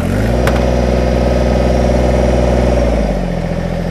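A Kubota BX25 compact tractor's diesel engine runs close and loud, a steady throbbing idle that shifts pitch slightly near the end, with a brief click early on.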